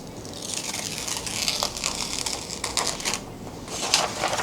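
A heat transfer being peeled off a printed shirt, a close, continuous crackling, crinkling tear with uneven bursts of sticky release, heard without talking.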